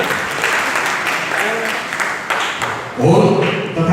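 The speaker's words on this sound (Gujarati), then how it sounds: "જોરદાર તાળીઓથી વધાવી" Loud applause from an audience at a community program, dense steady clapping throughout, with a sharper, stronger burst of clapping near the end.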